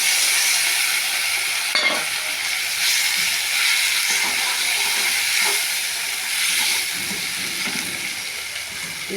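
Tomatoes sizzle in hot oil in a pan while a katla fish curry is cooked, a steady crackling hiss that runs throughout with a few soft clinks and stirs, close by and without talk.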